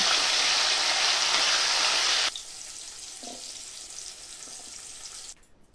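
Long beans frying with a little salt for a vegetable navaratna: a loud, dense sizzle for about two seconds, then dropping to a softer steady crackle that fades near the end. No voices.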